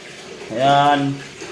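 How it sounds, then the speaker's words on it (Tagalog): Tap water running into a sink basin during a finishing job, a steady rushing pour lasting under a second with a tonal resonance, moderately loud and close, with quiet room sound around it. "nagpupuno sila ng tubig"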